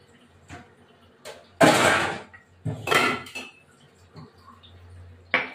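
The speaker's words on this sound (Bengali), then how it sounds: "এবার আমি ঢাকা দিয়ে দেবো। ঢাকা দিলাম" A metal lid set onto a cooking pot of chicken rezala, giving a few loud clanks and scrapes of metal on metal, close by in a quiet kitchen with no talk.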